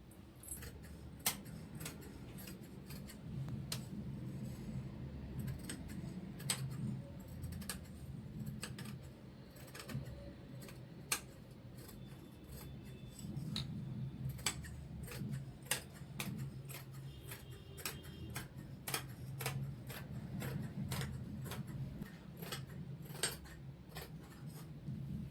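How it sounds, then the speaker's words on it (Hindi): Scissors cutting kurti fabric on a work surface, a long series of sharp, scattered snips and ticks against a low, steady background hum, with no talking. "और इसकी भी कटिंग कर देंगे।"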